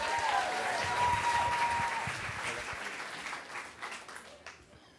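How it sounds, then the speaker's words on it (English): Audience applause at a live storytelling show, a broad crowd clapping steadily, gradually tapering off, with a voice speaking over it and a short whistle early on. "Big round of applause"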